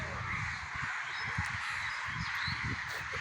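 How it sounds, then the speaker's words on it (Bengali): Several crows cawing in the treetops at dusk, a continuous overlapping chorus of harsh caws at moderate distance over a steady outdoor background hiss. "কাকের আওয়াজটাই বেশি আসে"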